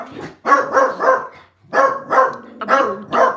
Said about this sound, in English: Oh, there's another dog.